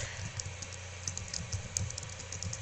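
Rapid keystrokes patter on a computer keyboard in a quiet room, a steady run of close, light clicks with a faint low hum underneath.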